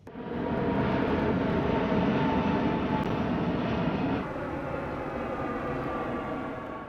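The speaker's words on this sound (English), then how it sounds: "The biggest concern some buyers have is airplane noise." Airplane flying low near Dubai airport, a steady loud broadband jet roar that holds for several seconds and then eases slightly as it passes over.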